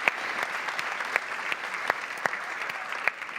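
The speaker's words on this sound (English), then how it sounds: "a huge round of applause for Eric." Audience applause at a hotel market day event, a steady dense patter of many hands clapping with a few sharper individual claps standing out, sustained throughout with no voices.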